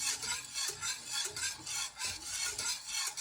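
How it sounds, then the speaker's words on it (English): Custard mixture whisked in a pan on the hob over low-medium heat, a steady rhythmic scraping and stirring with repeated strokes, close and fairly quiet, with no talking. "you just want to whisk it for a few minutes"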